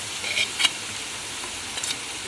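Ground masala paste with salt and turmeric frying in a hot pan for a paneer dish, a steady close sizzle with a few soft stirring scrapes.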